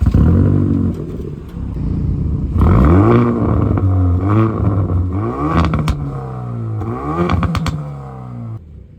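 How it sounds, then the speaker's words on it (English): A loud Hyundai i30N with its standard exhaust revs repeatedly, rising and falling in several throaty bursts with crackles between, close by and with no talking. "This car has a standard exhaust, and I cannot believe how loud it is from standard."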